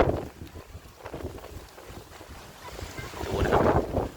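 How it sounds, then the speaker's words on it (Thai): Strong storm wind blustering around a mango and coconut trees, rough roaring gusts buffeting the microphone, swelling louder toward the end, no talk heard. "นี่ครับลมแรงมากเลยนะครับ"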